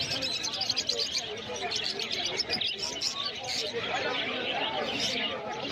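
Lovebirds, lutino lovebirds and zebra finches at a busy pet bird market in Uluberia, constant dense chirping and twittering from many birds with crowd chatter mixed in.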